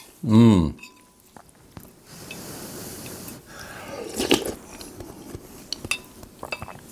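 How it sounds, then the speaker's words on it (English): Meatless rustic Italian soup slurped loudly from a spoon in a short close burst, followed by soft spoon clinks, chewing and a quiet voice. "Sorry for the slurp."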